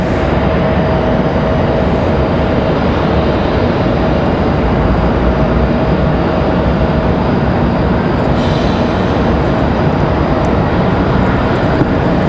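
A Frontier airliner at Raleigh-Durham airport roars with a loud, continuous jet-engine rumble as it prepares to depart from the runway, broad and steady throughout with no talk.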